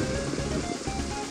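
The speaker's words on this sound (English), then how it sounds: "I'm just walking lonely in the rain." Steady rain in the video game Ocarina of Time falls as a continuous, dense hiss and patter, with a low rumbling bed underneath and an even, unbroken loudness.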